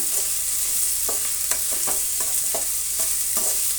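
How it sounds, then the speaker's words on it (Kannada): Green chillies and dried curry leaves frying in oil in a pan for carrot upma, a constant close sizzle broken by a series of regular scraping stirs, with no talk. "ಕರಿಬೇವಿನ ಸೊಪ್ಪು ಒಣಗಿರೋದು ಒಂದು ಸ್ವಲ್ಪ ಹಾಕ್ತಾಯಿದ್ದೀನಿ ಈಗ ಇದನ್ನು ನಾವು ಚೆನ್ನಾಗಿ ಫ್ರೈ ಮಾಡ್ಕೊಳ್ಳೋಣ"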